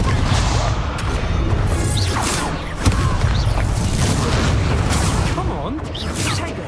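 Confringo fire spell blasts in a Hogwarts Legacy duel, a dense crashing burst with whooshing impacts and a sharp hit near the middle, heard over continuous battle noise while a voice speaks.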